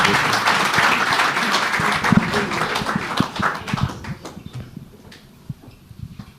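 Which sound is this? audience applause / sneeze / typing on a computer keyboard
audience applause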